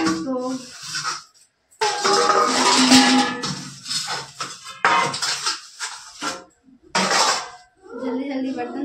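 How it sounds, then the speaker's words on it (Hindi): Dishes, pots and pans are washed by hand with clattering metal and clinking utensils in irregular bursts, close by, interspersed with someone talking. "जल्दी जल्दी बर्तन धो लेता नहीं"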